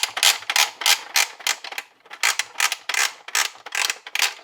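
A Real Ghostbusters toy's gear is turned by hand to wind up its hook, giving a close, steady run of rhythmic ratcheting clicks and creaks in short repeated bursts, with no voices.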